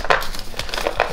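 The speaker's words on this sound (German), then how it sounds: "Dann mache ich hier die Nüsse rein." Nuts from a TEDI discount store tumbling into a layered snack container, heard as a few short dry rattling bursts of crinkly clatter, close and fairly loud, with no talking.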